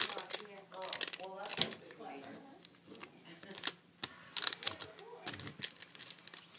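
Paper crinkles and creases sharply while being folded into an origami nesting bird, with crisp rustles and snaps scattered among a quiet voice giving instructions.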